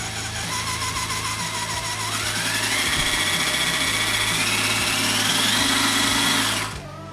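An electric motor in an Axial SCX10 III 6x6 RC truck runs on a bench test, whining steadily and rising in pitch as it speeds up, then cutting off abruptly near the end.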